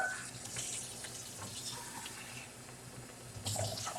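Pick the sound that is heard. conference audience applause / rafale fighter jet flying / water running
water running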